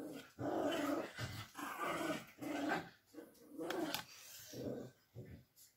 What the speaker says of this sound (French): cette chienne, c'est un truc de fou. Elle râle, elle joue, elle râle, elle joue.